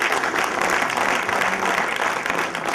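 An audience applauds the actors at the close of a stage drama, a loud, unbroken wash of clapping from many hands lasting throughout.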